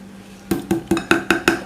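A spoon or whisk clinks against a bowl of Turkish cake batter made from flour, milk, oil, three eggs, baking powder, vanilla and sugar. There are six evenly spaced, fairly loud strikes after a brief quiet start.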